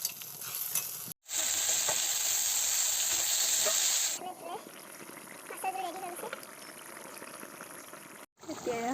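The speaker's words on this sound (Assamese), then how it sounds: "জুইতে তেল গৰম হ'ব দিছোঁ" Oil sizzles and hisses loudly in a wok over a flame, a bright steady frying crackle for a few seconds, then quieter crackling with a voice and household noises in the background.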